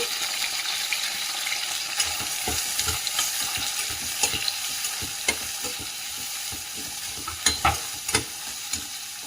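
Cumin, fresh peas and onion sizzle and fry in a pan for vangi bath while a spoon stirs, with scattered scraping knocks over a steady close hiss.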